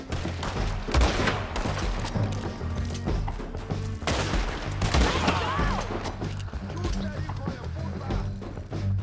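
Gunfire during a Red Dead Redemption 2 gameplay shootout, repeated shots and impacts scattered through the stretch amid busy game noise, with players' excited voices talking over it.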